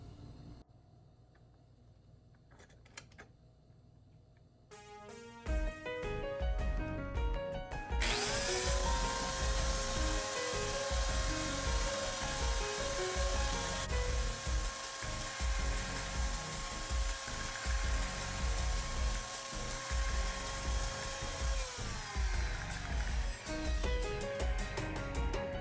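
Power drill boring into a plastic Power Rangers toy communicator held in a small vise: a few short spin-ups, then a loud sustained steady whine lasting about fifteen seconds before winding down, close and alone.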